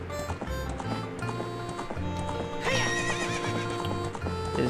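Galloping hooves of a horse in the video game Ocarina of Time pound steadily under game music, and a loud, wavering neigh breaks in near the middle and carries on to the end.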